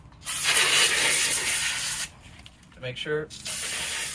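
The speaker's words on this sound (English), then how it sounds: "Next, we're going to give it one more final bath with brake cleaner" Brake cleaner sprays onto Jeep Wrangler JK brake parts in a loud, steady hiss lasting nearly two seconds. A short spoken remark follows, then the hissing spray starts again.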